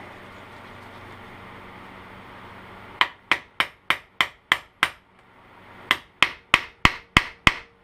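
Sharp metallic hammer blows drive a rear knuckle bushing into a Yamaha Grizzly 660 ATV, ringing out in two quick rhythmic bursts of about seven strikes each, loud and close, with a short pause between.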